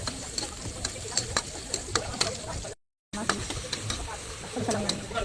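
Chopped onion, following garlic, fries in a pan for a winged-bean sauté, giving a scattered crackle of sharp pops and light sizzling that stops briefly and then resumes, with the cook talking nearby.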